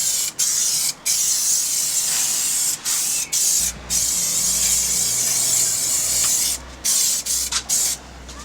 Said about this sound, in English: It's quite easy to use this spray.